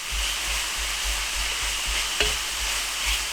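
Pork fat sizzles and fries steadily in a Lodge cast iron skillet, a dense continuous hiss with a faint low pulsing hum underneath and one brief clink near the end, no voices.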